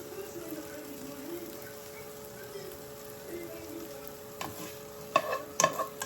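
Sirloin steak frying in a pan with pepper, onion and mushrooms, a steady soft sizzle throughout, with a few louder stirring scrapes and clatters toward the end.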